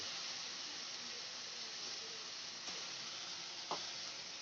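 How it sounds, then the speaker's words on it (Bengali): Chopped onions with a pinch of salt fry in a pan, producing a steady, close sizzle with a couple of faint stirring clicks and no talking. "পেঁয়াজ কুচিটা একটু আমি হালকা লাল করে ভেজে নেব"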